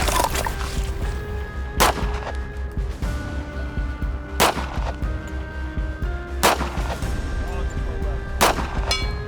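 A US Marine MEUSOC 1911 pistol fires four loud, sharp shots spaced a couple of seconds apart outdoors, each crack ringing out over steady background noise.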